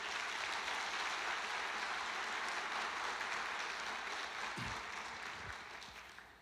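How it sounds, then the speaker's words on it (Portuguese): A church congregation applauds during a sermon, a broad sustained wash of clapping that gradually fades toward the end, with a couple of low thumps near the close. "Você pode aplaudir Jesus por isso?"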